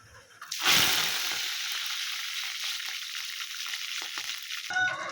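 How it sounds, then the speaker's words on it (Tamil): Mustard seeds splutter in hot oil, then curry leaves go in and set off a sudden loud burst of sizzling. The sizzle stays steady and close, then cuts off near the end, with no voices. "கடுகு நல்லா பொரிஞ்சிட்டே இருக்குது. இப்போ கருவேப்பிலை போட்டுருவோம்."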